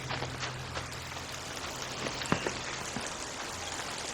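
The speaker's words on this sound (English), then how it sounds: "Of course, has to be a rainy day" Steady rain falls throughout in the video game ARC Raiders, a soft, even hiss with a few scattered drop taps, moderately quiet and with no talking.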